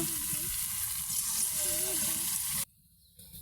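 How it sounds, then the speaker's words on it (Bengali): Bora fritters dropped into hot oil fry with a steady, close sizzle and crackle that stops abruptly near the end, leaving near silence with a faint clink. "এখন আমি ভেজে নেব, দেখতে থাকুন।"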